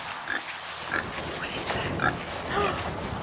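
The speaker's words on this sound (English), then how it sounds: "My son gets to meet the pigs." Pigs on a homestead grunt and oink in short, scattered calls over a steady, noisy farmyard background, with a few brief squeals standing out nearby.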